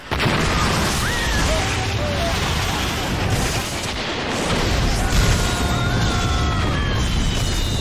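Fireworks burst out of a box in the Harry Potter Order of the Phoenix video game, with a dense continuous roar of crackling blasts and whistling streaks, loud and sustained with game voices mixed in.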